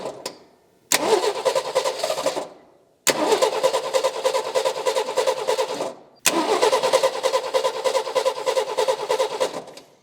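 A long-abandoned AMC Rebel's engine cranks in three long bursts separated by short pauses, a steady loud rhythmic churning from the starter that never catches into a clean run.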